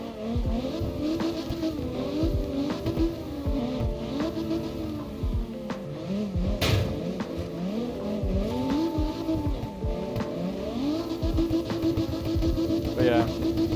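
Engine revving and tyre squeal from a car drifting in CarX Drift Racing Online, a steady loud stream of game audio with shifting engine pitch and a voice talking over it throughout.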